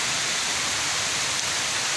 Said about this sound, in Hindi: बहुत ज़ोरों की बारिश, लगातार ऐसे मूसलाधार बारिश हो रही है